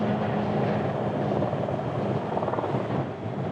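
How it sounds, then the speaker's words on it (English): A helicopter drones steadily nearby on the road toward Grand Canyon park, a broad constant rotor and engine roar with no talk, fading slightly at the end. "I hear a chopper to our left."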